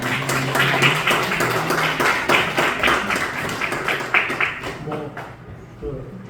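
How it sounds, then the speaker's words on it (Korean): A church congregation gives a round of welcoming applause, many hands clapping in dense rhythmic bursts that taper off, with voices mixed in. "환영의 박수 부탁드리겠습니다"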